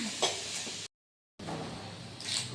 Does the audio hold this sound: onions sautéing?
yes